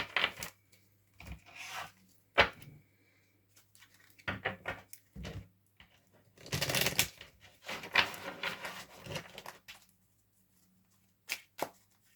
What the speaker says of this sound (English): Let's have a good old shuffle.